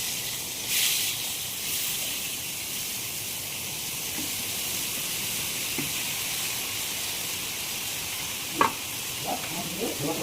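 Pumpkin and mixed vegetables hit hot oil tempered with cumin seeds and dried red chilli, giving a steady broadband sizzle throughout, with a few stirring scrapes and clicks near the end.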